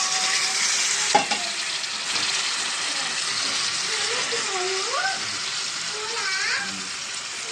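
Chicken pieces hit a hot pan of ginger-garlic paste, giving a steady loud hiss and sizzle with a sharp clank as they go in, then a constant frying crackle while a voice speaks faintly underneath.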